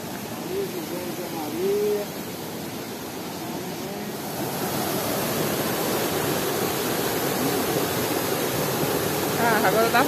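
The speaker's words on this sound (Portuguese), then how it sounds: "Imagina o rumo do som da cachoeira." A steady rush of falling water from a waterfall fills the scene, growing fuller and louder, with faint bird calls early on.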